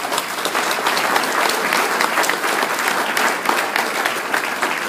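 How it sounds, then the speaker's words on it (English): Audience at a Hall of Fame induction evening applauding the event committee, a dense sustained wash of many hands clapping, loud and even across the whole stretch. "A round of applause for them, please."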